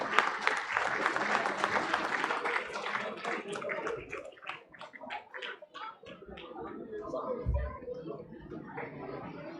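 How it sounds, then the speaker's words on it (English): Audience applause at a student tech expo, the International Digital Fest, breaks out as a dense burst of clapping that gradually thins and becomes more scattered, with crowd voices mixed in throughout. "Give a big round of applause."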